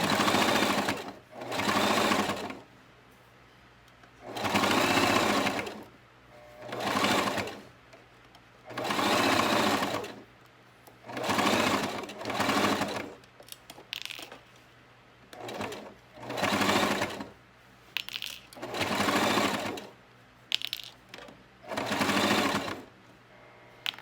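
A sewing machine stitches a strap in repeated bursts of rapid whirring, about a dozen runs of a second or two each, separated by short pauses, close and clear with no talk.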